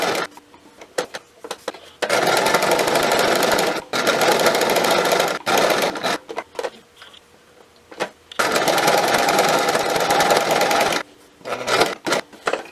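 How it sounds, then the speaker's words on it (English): A sewing machine top-stitches around the edge of a pillow, running in three steady whirring bursts of about two seconds each, separated by short pauses and quieter handling sounds, with no talking. "So now what we can do is just stitch around the edge."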